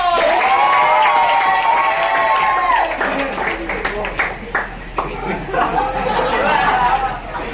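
Applause and chatter from a school audience after a student named Zishan is called up, with a music-like tone early on, then scattered clapping, chuckles and crowd murmur with voices talking throughout.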